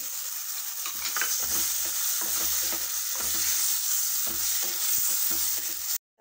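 Paneer frying in a pan for palak paneer, a loud, continuous sizzle with faint scraping stirs underneath, close up, ending abruptly.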